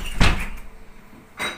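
A warped cupboard door in a home gives a sharp knock as it pops open, then a softer thud about a second later, with no voices.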